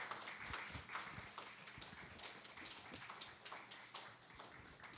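A church congregation applauds as a gift is presented to new members, a faint, steady patter of many hands clapping at a distance, continuing unevenly throughout.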